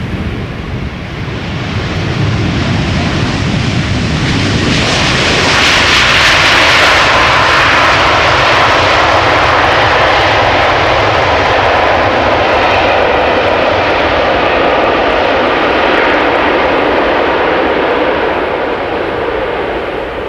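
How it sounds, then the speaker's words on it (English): A Delta Airlines airliner arrives at Amsterdam Schiphol Airport after a long flight from Seattle. Its jet engines give a loud, continuous roar that swells to a peak and then holds steady, like a rushing wind. "Delta Airlines arriving from Seattle, just over 9 hours of flight time."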